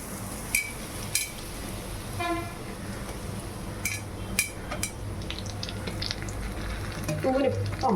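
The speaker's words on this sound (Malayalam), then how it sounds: "ഇതാ നമ്മൾ നെയ്യിൽ ഈ നാളികേരം വറുത്തോണ്ടിരിക്കുകയാണ് കേട്ടോ" Steady sizzle of coconut frying in ghee fills the background, with a few sharp metallic clinks and scrapes scattered throughout.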